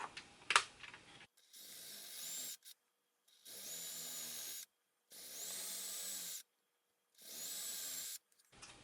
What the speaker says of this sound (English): I will start the drill in reverse